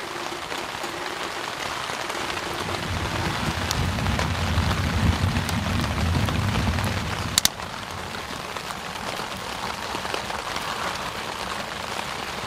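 Steady freezing rain pattering on a synthetic hot tent in snow, a dense even hiss with a low rumbling swell midway and a couple of sharp ticks, continuous throughout with no voices.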